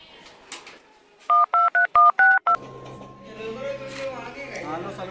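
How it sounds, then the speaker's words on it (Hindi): Touch-tone phone keypad beeps: about seven short, evenly spaced dialing tones in a quick burst, followed by a softer steady tone and faint background voices. "फोन लगा लेता हूँ।"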